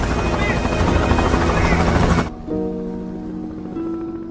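Loud rescue helicopter rotor noise roars steadily, then abruptly drops to a quieter, humming engine drone.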